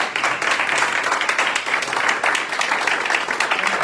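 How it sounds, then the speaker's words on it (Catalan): An audience applauding Catalan Olympic cyclists at a tribute event, a dense, steady round of clapping throughout. "Home, i tant, que podeu aplaudir."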